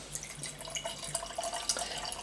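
Ascension Shimmy cider pours from a can into a glass, a soft fizzing and trickling with light bubbly crackle, faint and steady.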